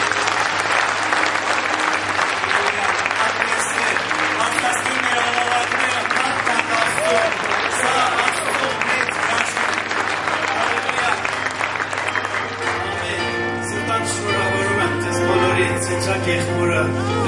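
Sustained, dense applause from a large audience at an anniversary celebration, steady and loud throughout, with a voice speaking over it and a low steady hum underneath.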